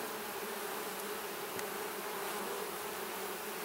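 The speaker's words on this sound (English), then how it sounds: "There's a lot of bees in this hive now." Dense, steady buzz of many honeybees swarming around an open beehive during a frame inspection, a continuous close-up drone with no talk.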